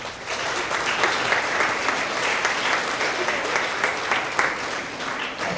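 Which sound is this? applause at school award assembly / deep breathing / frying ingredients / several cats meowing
applause at school award assembly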